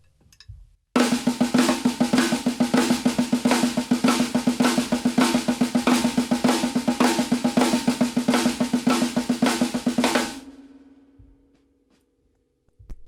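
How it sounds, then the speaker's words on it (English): Rapid, steady sticking on a drum practice pad, dense dry taps with grace-note flams, running about nine seconds before stopping and ringing off. "you could permutate your flam across all the different 16th notes"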